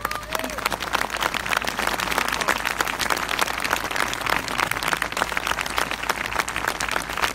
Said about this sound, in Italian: un grande applauso per loro